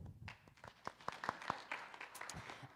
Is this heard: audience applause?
yes